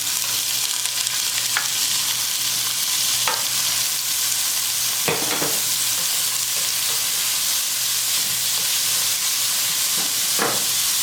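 Green peppers frying in a pan for rice with cod fish produce a loud, steady, hissing sizzle throughout, with a few faint utensil taps and scrapes, close up and with no talking.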